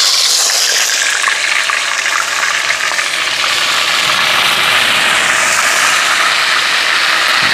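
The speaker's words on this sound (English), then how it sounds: "Now the oil sizzle and dizzle, you know, well hot." Lobster pieces frying in very hot oil in a pot outdoors at sea, beer-battered for a barbecue; a loud, steady broadband sizzle and hiss runs unbroken throughout with no one speaking.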